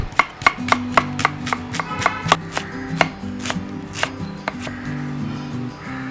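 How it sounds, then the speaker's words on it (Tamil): A knife finely chops an onion rapidly on a cutting board, a quick run of sharp taps that slows slightly, close by, over faint background music. "ஒரு வெங்காயத்தை நான் பொடியாக நறுக்கிக்கிறேன்"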